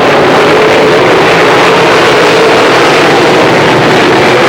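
Late model race cars roar down the front stretch of a short track during a 1997 feature race, a dense, continuous engine drone filling the whole stretch at steady loudness with no talk.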